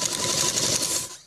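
A sewing machine stitching net fabric for a designer frock runs in one quick, close burst of rapid, even needle chatter, then stops.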